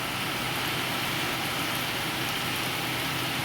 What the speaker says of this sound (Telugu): బాగా పడుతుంది వర్షం ఇప్పటికే అరగంట అయింది